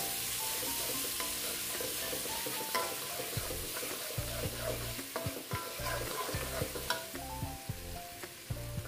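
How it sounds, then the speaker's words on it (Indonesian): Spice paste fries in hot oil, a steady sizzle under repeated stirring scrapes and soft clanks from a spoon against the pan, close and moderately quiet. "Kebetulan aku udah panasin minyaknya. Nah, tinggal dimasukin aja bumbunya, terus kita masak sebentar."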